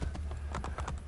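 Horse hooves clip-clopping in Assassin's Creed Brotherhood, a quick, steady run of close hoofbeats over a low background rumble, with no talking.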